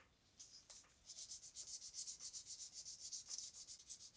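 2000-grit sandpaper rubs over a nitrocellulose finish on a Fender Stratocaster or Telecaster guitar body, making quiet, rhythmic back-and-forth scratching strokes in a close, steady series.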